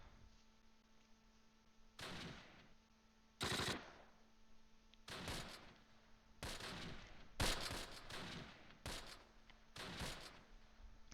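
Machine gun fire in the World War II game Close Combat Last Stand Arnhem comes in six or seven separate short bursts over a low steady hum, with no talk.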